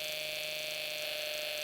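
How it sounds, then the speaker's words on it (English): A Snap Circuits SC-750 speaker driven by a fan motor circuit gives off a faint, steady electronic buzz with a thin, tonal whine, constant over the short stretch and heard alone. "you can hear kind of like a buzzing sound coming from the speaker"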